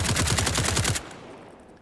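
Automatic AK-104 rifle fire at a firing range in the video game SCP: 5K, a rapid burst of about ten close, loud shots lasting one second, then a fading tail.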